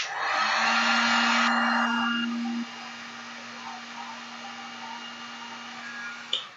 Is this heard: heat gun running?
yes